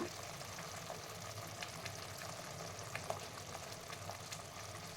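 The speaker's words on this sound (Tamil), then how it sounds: "கேப்சிகம் போட்டு ஒரு பது அஞ்சு நிமிஷம் வதக்குனா போதும்" Capsicum sautéing in a pan for South Indian tomato rice gives a steady, soft sizzle and crackle of frying, even and continuous with faint clicks, and no voices.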